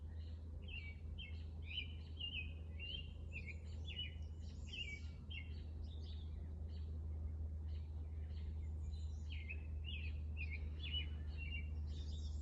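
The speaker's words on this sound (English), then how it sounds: "But that bird going off," A bird sings outdoors in a rapid series of bright chirps and trills that repeat continuously over a low steady background hum, fairly faint and with no voices.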